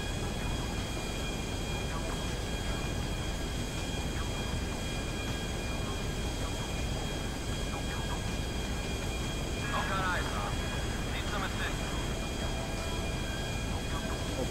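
An airplane engine in the GTA V video game drones steadily and faintly at a constant pitch, with a few brief chirping sounds rising above it.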